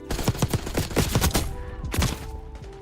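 Gunfire in the Black Ops 6 video game: a dense burst of rapid automatic shots and impacts, a short pause, then another loud volley with trailing rattles, all close and forceful.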